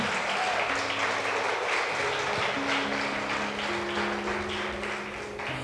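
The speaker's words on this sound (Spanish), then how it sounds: "Dale un fuerte aplauso al Señor." An audience at a church preaching event breaks into strong, sustained applause, a dense and even wash of clapping that stays loud and close for the whole stretch, with a faint sustained tone underneath and no speech over it.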